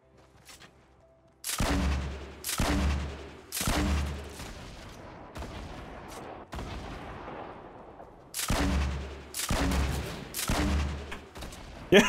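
Fortnite Battle Royale gunfire: a series of loud, separate bursts of shots, some with rolling booms, separated by short pauses and heard with no talking.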